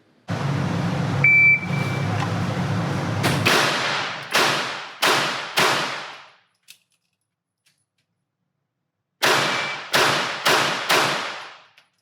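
Glock pistol loaded with 15-round magazines fired on an outdoor range from seven yards: four sharp shots, a pause and the clack of a reload, then four more quick shots.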